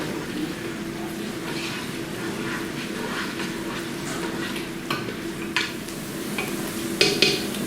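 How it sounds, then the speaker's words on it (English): Onions, carrots and celery sautéing in a soup pot, a steady soft sizzle with occasional scraping stirs and a couple of sharper utensil knocks toward the end. "Just stir your veggies every so often so they don't burn."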